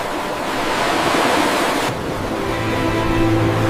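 Ocean surf washing in as a steady broadband roar of waves, with a brief shift in the wash partway through, continuous and fairly loud with no voices.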